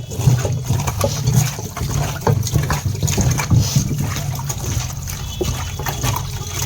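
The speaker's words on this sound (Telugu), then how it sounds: "కడుక్కుందాం నీళ్ళు వేసేసుకొని." Water poured and sloshing over raw chicken pieces being washed in a bowl for pakodi, a steady splashing trickle throughout with a low rumbling bed.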